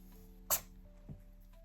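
A single short, sharp sneeze bursts out once near the start, fairly faint, with quiet room background and no talking around it.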